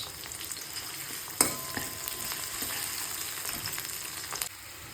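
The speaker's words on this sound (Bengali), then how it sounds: "একদিকে চাল কুমড়ো হচ্ছে আর একদিকে পেঁয়াজ ভাজা হচ্ছে" Onions fried in a pan give a steady close sizzle throughout, with a few sharp clinks and scrapes of stirring, one louder knock near the start.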